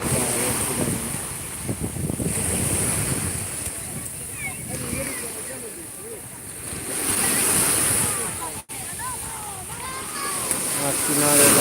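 Sea waves surge and wash onto a beach on a hot day, swelling and fading under heavy wind buffeting the microphone, with faint voices in the background.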